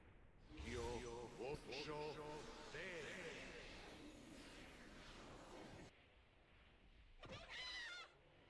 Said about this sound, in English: That's a chicken there, too.